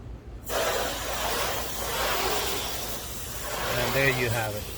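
A broad hissing spray of plain water on a ceramic-coated Nissan Altima's paint starts abruptly and continues steadily, with a faint engine-like drone and whine near the end.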